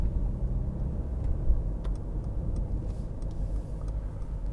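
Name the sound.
2015 Mercedes-Benz C200 driving on the motorway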